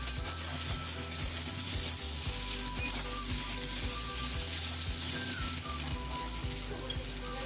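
Continuous loud sizzling of vegetables for shukto frying in a pan, with occasional stirring scrapes and a low steady hum underneath.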